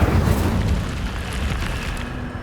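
A fire spell is cast in Hogwarts Legacy, giving a loud, deep whooshing burst of flame that rumbles steadily and fades slightly over a couple of seconds.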